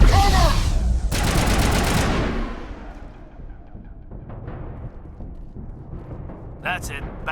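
A grenade blast and bursts of gunfire in the Mass Effect video game, a loud broadband explosion followed by a rapid crackling volley that fades into scattered shots and a distant rumble, with voices calling out over the combat.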